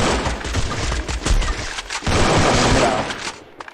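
Gunfire crackles in rapid, dense bursts during a game, the shots coming loud and close with hardly a pause between them.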